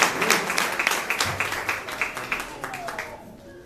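A church congregation claps in praise, a rhythmic, moderately loud burst of hand claps that gradually fades as a voice begins speaking over it.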